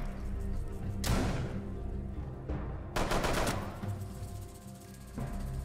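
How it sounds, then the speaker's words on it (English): Gunshots from the video game Rainbow Six Siege come as loud automatic bursts, two main volleys with echoing decays over a constant low rumble of game ambience, and no one speaking. "You shot that bitch in the face."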